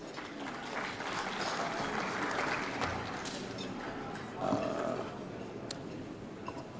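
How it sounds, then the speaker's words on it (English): Conference audience applauds at a climate resilience event, a moderate, fairly distant wash of clapping that holds steady and then gradually thins out. "So let's give a warm round of applause, please."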